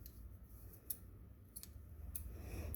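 Scissors snipping through yarn wound for a craft decoration, three or four sharp, crisp cuts spaced about a second apart over a quiet, low room hum.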